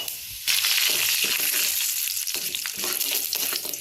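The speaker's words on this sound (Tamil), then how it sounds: "கடலைப்பருப்பு, உளுத்தப்பருப்பு, கருவேப்பிலை, இது 3 போட்டு நல்லா இதை நல்லா ஒரே ஒரு ரோஸ்ட் ஆகட்டும்" Chana dal, urad dal and curry leaves roasting in oil, a sudden loud burst of crackling sizzle after a brief quieter start, then a dense steady hiss with a few stirring scrapes, close and unaccompanied by speech.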